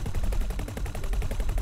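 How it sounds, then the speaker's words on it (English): Rapid bursts of ship-mounted guns fire in the space game X4: Cradle of Humanity, a dense, loud, continuous machine-gun-like rattle of closely spaced shots with no talk. "Firing those guns feels like part of the Matrix Revolutions with those APU Defense Sentinel"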